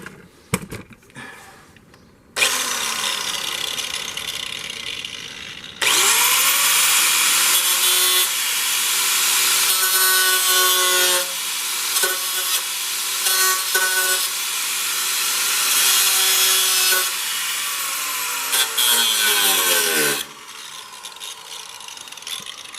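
A thin, rusty metal patch panel being trimmed with a power cutting tool, a loud close harsh grinding whine running for long stretches with brief pauses and shifting pitch as the tool works the sheet metal.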